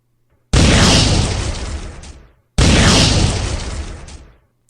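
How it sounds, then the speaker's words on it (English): Two heavy booming blasts, about two seconds apart, each loud and broad with a long rumbling decay, with silence between and no voices. "2 other explosions were heard from the belly of the Robin."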